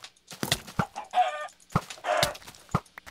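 Clucking from a chicken in the Minecraft video game, several short, close squawky bursts in quick succession amid other game sounds.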